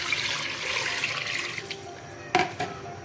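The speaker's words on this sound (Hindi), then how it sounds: "सबसे पहले हमने चिकन लिया है और अब इसमें हम डालेंगे पानी।" Water pours from a vessel onto raw chicken in a cooking pot for chicken yakhni pulao, a steady splashing gush that ends with a few sharp clunks and drips, close and alone.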